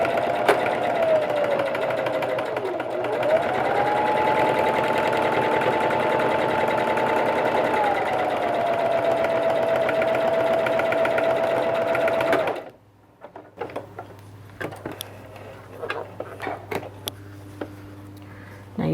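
A sewing machine stitches the center seam of a cloth face mask in a steady, fast whirring run for about twelve seconds, then stops, leaving quiet handling clicks and rustles.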